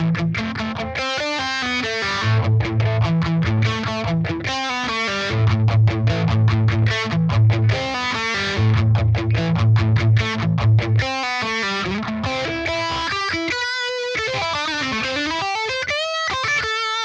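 An electric guitar played through an amp's overdrive channel with a phaser, chasing an iconic rock tone: distorted chords and riffs, then sweeping swirling notes, loud and dry with no talking.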